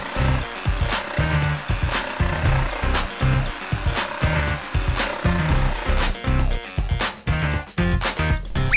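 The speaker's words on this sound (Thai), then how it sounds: "อุปกรณ์สำคัญเลยนะครับที่เราต้องใช้วันนี้ก็คือเลื่อยจิ๊กซอว์ไฟฟ้านะครับเดี๋ยวไปลงมือตัดกันเลยนะครับตัดตามรูปแบบ" An electric jigsaw cuts through a wooden board along a mountain-shaped outline for a shelf, giving a steady, loud, close buzzing rasp with rhythmic pulsing and brief changes in pitch as the blade works.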